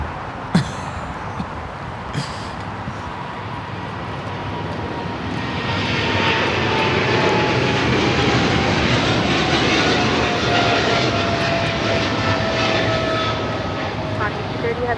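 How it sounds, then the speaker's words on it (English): A DHL Boeing 777 freighter jet takes off from runway 25 left at Los Angeles airport. Its engine roar builds into a loud, steady distant rumble over fifteen seconds, with voices talking underneath. "DHL 777 freighter now rolling 25 left."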